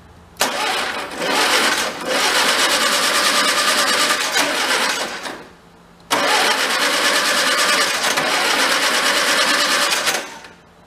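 The engine of an MG TD barn find, parked for 45 years, is given throttle and roars loudly up close in two sustained bursts of about five and four seconds, with a brief quiet gap between them.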